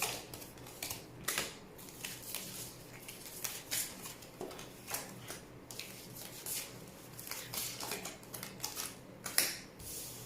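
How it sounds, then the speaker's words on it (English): Cards being shuffled slowly and deliberately during a tarot-style prediction reading, heard as soft, quiet riffling and flicking bursts at an irregular rhythm with no talking, close by. "I'm going to take my time shuffling."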